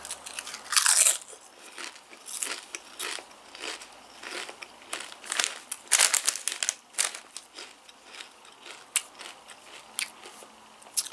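Miss Vickie's honey mustard potato crisps from Canada crunched and chewed up close, loud brittle crackling bites followed by repeated rhythmic chewing crunches with no talking.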